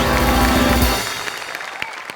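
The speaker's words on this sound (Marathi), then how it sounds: "त्यांच्यासाठी देखील आपण जोरदार टाळ्या वाजवूया" Studio audience clapping at a Marathi comedy show, a dense burst of applause that cuts off after about a second, leaving scattered claps fading out.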